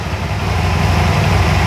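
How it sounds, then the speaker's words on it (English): Can-Am Spyder engine idling after a spark plug change, a steady low rumbling hum heard up close with no talking. "engine is running fine now."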